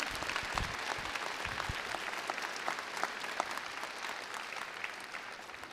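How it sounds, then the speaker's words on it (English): Audience applause for school trustees at a high school commencement ceremony, a dense, even round of clapping from a crowd sustained for several seconds, with scattered individual claps standing out. "let's clap for them"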